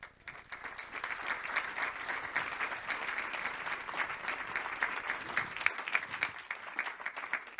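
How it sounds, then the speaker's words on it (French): An audience applauding a speaker at a conference, a dense, steady patter of many hands clapping together, sustained at even loudness throughout. "Je vais vous demander, s'il vous plaît, d'applaudir notre professeur,"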